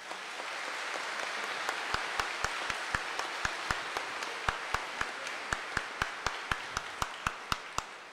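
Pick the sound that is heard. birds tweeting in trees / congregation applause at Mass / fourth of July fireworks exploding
congregation applause at Mass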